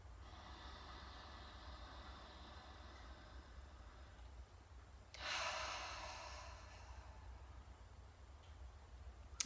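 A single slow, deep breath drawn in and let out once, soft and close over a quiet background hiss, with no talking.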